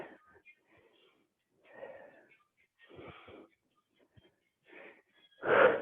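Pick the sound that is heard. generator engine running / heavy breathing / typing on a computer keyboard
heavy breathing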